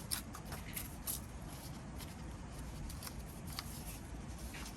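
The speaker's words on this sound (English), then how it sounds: "I'm just gonna rip it down a little bit" Paper is torn by hand for a journal card, a run of soft rustles and short tearing rips, faint and close, with a few sharper bursts near the start.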